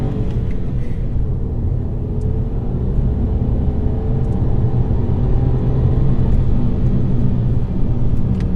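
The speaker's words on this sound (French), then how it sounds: "qu'on fasse une petite accélération pour le fun, qu'on voit un petit peu comment ça accélère" A 1-litre three-cylinder turbocharged car accelerating from inside the cabin, a loud deep engine rumble and drone that builds steadily and slightly rises in pitch, with no talk.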